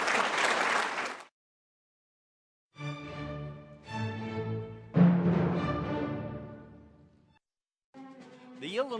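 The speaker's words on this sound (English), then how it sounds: "let's give Congresswoman Kelly a big round of applause" Audience applause for Congresswoman Kelly: a short, dense burst of clapping lasting about a second, then cut off into silence before unrelated tonal sounds follow.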